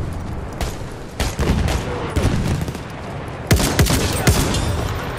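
Gunfire in the video game Battlefield 1, a burst of sharp shots and booms in uneven clusters, some loud and close, over a constant battlefield rumble.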